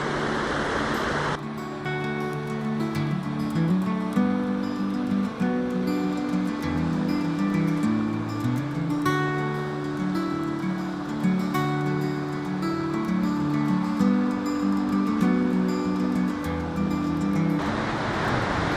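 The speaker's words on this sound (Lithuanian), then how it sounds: "kaip gražiai atrodo kriokliai." The Biuleris falls waterfall roars in a continuous, loud, even rush that fills the whole stretch without pause, heard close by from a viewing spot near the falling water.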